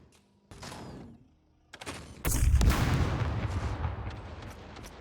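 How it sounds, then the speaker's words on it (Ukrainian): A loud gunshot blast in the video game SCUM rings out and trails into a long rumbling echo, preceded by quieter clatter and movement sounds. "Зараз буде другий постріл."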